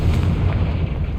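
Confringo explosion spell from Hogwarts Legacy, a loud, close, rumbling blast with heavy low-end boom that sustains briefly without voices.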